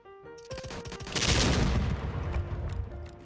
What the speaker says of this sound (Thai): โอ้โหยิงทีหูแตก